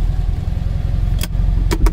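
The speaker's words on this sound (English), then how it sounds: "Let's start the car." A 1970s–2000 FSM-built Polski Fiat 126p small car engine runs with a loud, close, steady low rumble, punctuated by a few sharp clicks near the end.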